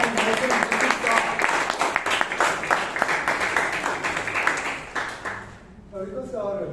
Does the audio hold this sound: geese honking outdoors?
no